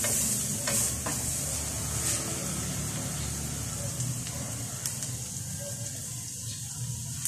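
Garlic sizzles in a pan while cooking sisig, a steady soft frying hiss that runs throughout, with occasional clinks and stirring noises close by.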